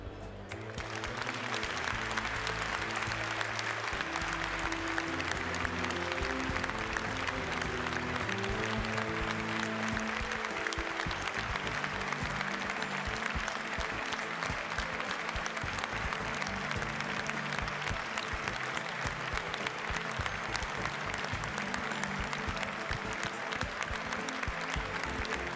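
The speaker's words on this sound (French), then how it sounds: "je vous demanderai à tous de lui faire une minute d'applaudissement." Sustained applause from a large crowd at a Bazadaise cattle competition, a dense steady clapping that continues evenly for the full stretch as a minute-long tribute, no voices over it.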